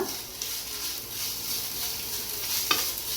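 Finely chopped medium carrot being sautéed and stirred in a pan over a very low flame, giving a soft, steady sizzle with a few faint scrapes and clicks of a spoon, no voices.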